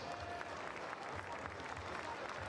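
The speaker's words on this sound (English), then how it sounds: "let's give one more round of applause" Steady applause from a large crowd at a Nebraska NSAA Class C2 boys state basketball championship, a dense, even wash of clapping filling the arena at moderate level.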